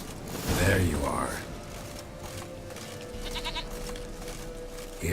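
A goat bleats in The Witcher 3 video game, a wavering cry near the start over a steady game ambience with a faint rattling mechanism later on.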